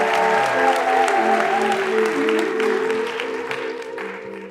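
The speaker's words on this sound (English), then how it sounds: "please give a big round of applause for our next storyteller, David Ambrose" Audience applause from a live storytelling show crowd in Los Angeles, a steady dense clapping that holds for several seconds and then begins to thin and fade toward the end.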